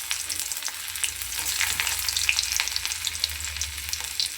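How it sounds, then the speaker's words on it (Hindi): Ginger, onion and chili frying in a kadai with cumin, a close, continuous crackling sizzle with soft stirring sounds, alone with no talk. "अब इसको बस फ्राई करना है और भूनते रहेंगे थोड़ा है।"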